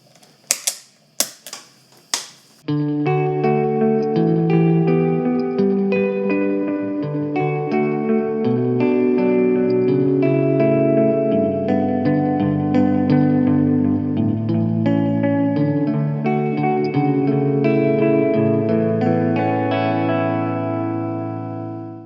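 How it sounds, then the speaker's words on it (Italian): An electric guitar played through a Gokko MX300 analog pedalboard with reverb and delay combined rings out in a long sustained wash of overlapping notes after a few sharp percussive plucks, loud and up close with trails blending together. "Partiamo ad esempio con un classico, riverbero e delay insieme."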